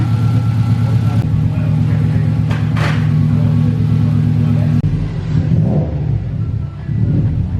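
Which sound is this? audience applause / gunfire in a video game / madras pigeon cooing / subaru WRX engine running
subaru WRX engine running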